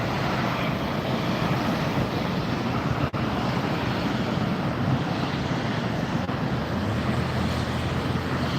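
A Virgin Atlantic airliner at LAX produces a steady, broad jet roar mixed with wind buffeting on the microphone. It continues unbroken at moderate loudness except for one brief dropout.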